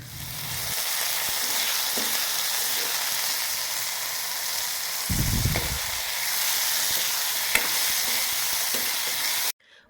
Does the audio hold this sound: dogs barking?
no